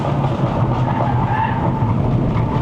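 Tires of a Stage 2 Mercedes-AMG CLA45 C117 with a hybrid turbo skid and scrub on a mountain road near Genting, Malaysia, a loud continuous tire noise over the car's engine roar, heard from inside the car.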